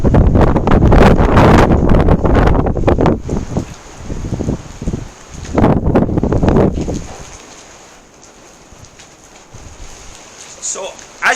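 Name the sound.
strong stormy wind blowing across the microphone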